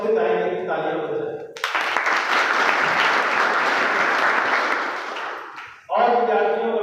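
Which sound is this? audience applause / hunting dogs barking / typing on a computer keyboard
audience applause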